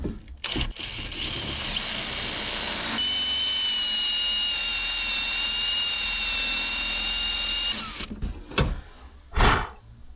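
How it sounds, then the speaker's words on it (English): Spin S6000 swage kit swaging copper AC line tubing on a 50-year-old unit replacement: a steady, loud, continuous power-tool whine running about five seconds, with sharp clicks and knocks before and after. "this is gonna be the Spin S6000 swage kit"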